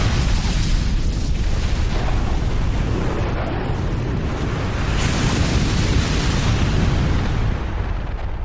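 A Brionac cannon in an animated series fires, producing a dense, sustained roaring blast of explosion that stays loud and broadband throughout, without a break.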